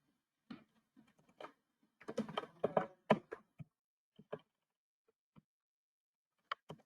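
Typing on a computer keyboard, a run of quick, close key clicks in short bursts, then a few isolated taps in a quiet room.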